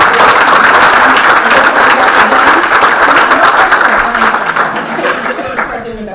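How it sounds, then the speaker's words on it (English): Audience applause at a community forum on school safety, greeting two high school students: loud, dense, sustained clapping from a crowd that thins and fades toward the end, with some voices and light laughter mixed in. "can we get a round of applause for our two students?"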